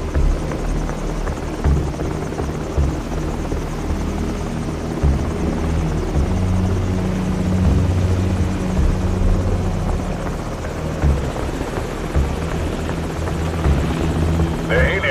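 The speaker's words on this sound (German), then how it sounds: "Der Heli entfernt sich." A helicopter flying away in the video game Call of Duty 4: Modern Warfare, its steady rotor thump and engine drone holding fairly loud and even throughout without fading much.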